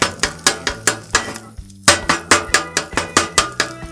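A metal scraper works scrambled eggs across a hot Blackstone griddle, giving a steady run of sharp, rhythmic scraping strokes about four per second, close and loud, with one short pause midway and no talk.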